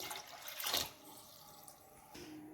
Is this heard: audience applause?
no